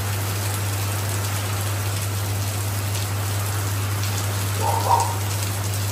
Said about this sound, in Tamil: இன்னைக்கு வச்சு வாங்குது மழை.